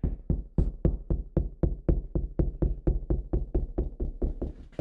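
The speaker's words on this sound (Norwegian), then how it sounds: "Og det rett og slett å gå banke." Knuckles knocking on a wall in a steady run of about twenty distinct raps to locate a stud, close and fairly quiet, each hollow knock ringing briefly, with no talking.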